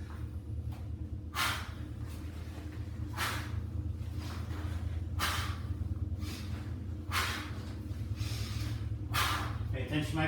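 Heavy, forceful exhalations during a workout exercise recur every second or two, each a short breathy burst, close to the microphone over a steady low music bed.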